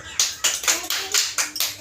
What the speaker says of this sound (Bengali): হ্যাঁ হাততালি মারো একটু সব।